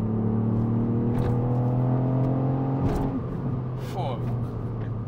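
A Ford Fiesta ST Mk8 with a 200 hp three-cylinder turbo engine drives along, its steady engine drone clear and close before the pitch drops and shifts around the three-second mark.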